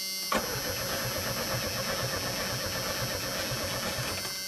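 A Chevrolet S10 pickup engine cranks over with a steady rhythmic churning that starts abruptly and keeps going at even volume without catching, no voices over it.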